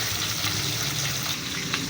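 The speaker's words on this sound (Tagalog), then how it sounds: "Ganyan ako pag nag-prito ng isda." Tilapia fish frying in oil gives a dense, steady sizzle with fine crackles throughout, close and fairly loud.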